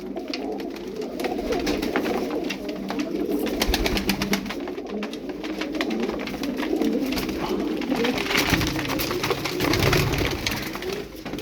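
A dense, steady murmur of many tumbler pigeons cooing and fluttering together, close and continuous, with no clear pauses.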